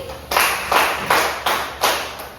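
Students in a grade one math class clap in unison five times, evenly spaced sharp claps standing out clearly against a quiet room.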